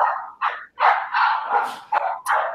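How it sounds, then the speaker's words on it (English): Several dogs bark loudly and close by in a quick, uneven run of sharp barks and yips, with short gaps between bursts. "sorry about bloody dogs"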